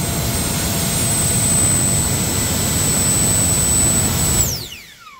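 An FMS 90mm electric ducted fan with a 4068 1850kv motor on 7s power screams at full throttle during a thrust test, a loud steady whine that holds level and then spools down fast near the end.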